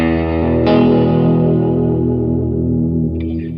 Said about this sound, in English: Now that I got this big verb that sounds like this.